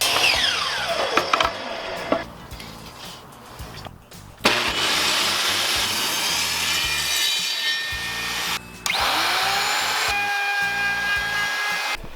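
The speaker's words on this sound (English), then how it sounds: "I sure like this little Skilsaw table saw" Small Skilsaw table saw ripping through wooden boards, a loud steady whine with the blade spinning up, cutting, dropping out briefly and biting again, ending in a falling spin-down hum close by.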